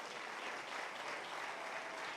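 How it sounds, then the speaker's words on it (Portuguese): A church congregation applauds together, a steady, dense wash of clapping that holds evenly throughout at a moderate distance. "Aplauda também o Senhor pela sua vida."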